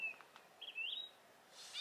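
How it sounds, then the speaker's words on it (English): Bird calls outdoors on a spring morning at dawn: a few thin, high chirps and whistled phrases, fairly faint and distant, separated by short quiet gaps with no talking. "So many cool birds around right now."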